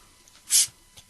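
A short, sharp hiss as a beer bottle is opened, the pressure releasing in one quick burst, followed by quiet.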